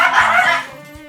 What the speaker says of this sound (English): And a bunch of dogs. And our dogs.